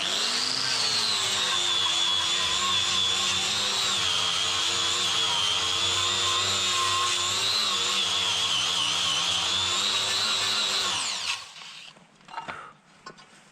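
A coral grinding disc on a power tool scours heavy rust from metal with a loud, steady high-pitched whine for about eleven seconds, then spins down into scattered scrapes and knocks.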